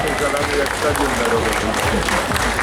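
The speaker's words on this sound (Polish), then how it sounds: "Wielkie brawa, proszę Państwa." A crowd at a bodybuilding and fitness competition applauds a third-place finisher, with loud, continuous clapping mixed with crowd noise and a voice over a public address system.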